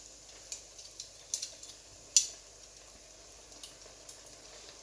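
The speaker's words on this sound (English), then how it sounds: "So straight into the deep fry." Braided bread dough deep frying in hot oil, giving a faint, steady sizzle broken by scattered small pops and crackles, with no talk.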